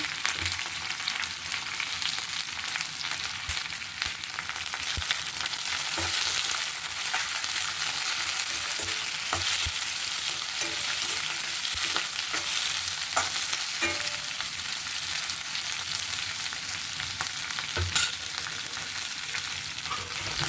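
Onion, green chilli and curry leaves sizzle steadily in hot oil in a pan, a dense continuous frying hiss with occasional light stirring clicks, close and alone without voices.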